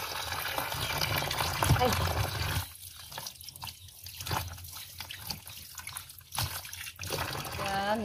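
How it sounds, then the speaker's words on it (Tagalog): Tap water splashing and trickling into a sink while crabs and bongkaliw are rinsed, a steady close wash broken by short pauses, with a brief voice over it. "Hinugasan ko po siya ng maayos."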